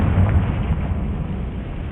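Confringo fire spell blasting in Hogwarts Legacy, a sustained roaring, crackling burst that stays loud and dense for two seconds with no quiet gap.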